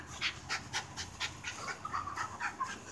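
A puppy pants quickly and rhythmically up close, short breathy huffs repeating steadily with no talking.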